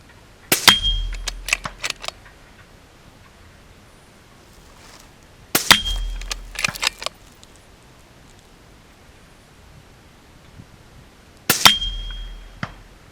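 Gunshots ring out at a steel spinner target, grouped in three widely spaced bursts, each a sharp loud crack followed by quick metallic clanks and pings from the target spinning, with quiet outdoor air between.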